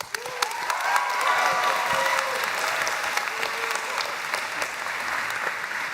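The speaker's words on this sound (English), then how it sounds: "I kindly request that we hold applause, otherwise we'll be here for another hour." Audience applause fills a high school commencement ceremony at Gann Academy, a steady, dense wash of many hands clapping that holds for several seconds at a fairly loud, even level.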